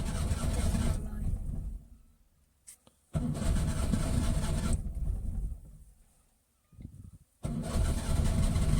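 A cold Maruti 800 car engine cranks and catches three times, each start running a couple of seconds before cutting out, loud and close with quiet gaps between.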